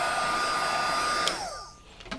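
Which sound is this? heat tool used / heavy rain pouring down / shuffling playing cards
heat tool used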